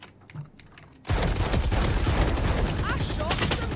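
Gunfire in a Valorant esports match: after a quieter second, a sustained rapid volley of shots with clattering impacts, loud and continuous, with players talking faintly underneath.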